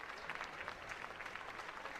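Spectators at a New Zealand versus South Africa third-place match keep up a steady patter of applause for two seconds, heard faintly and from a distance, with no talking.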